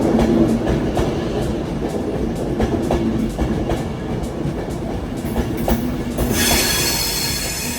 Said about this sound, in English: here she comes, the 1502 Avanti West Coast service from Carlisle to Haymarket and Edinburgh Waverley